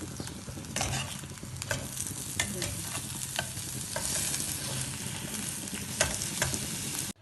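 Brinjal pieces browning in hot oil give off a steady, close sizzle, broken by intermittent clinks and scrapes as they are stirred in the pan, with no voices over the frying.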